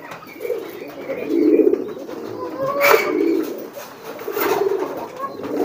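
Pigeons coo in soft, repeated low phrases, close by and at a moderate level, with no talk over them. A brighter bird chirp or two cuts through near the middle.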